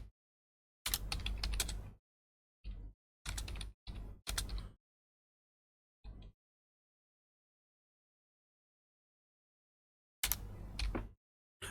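Bursts of rapid key clacking on a computer keyboard as Java code is typed, several short flurries separated by long silent pauses, close and fairly quiet.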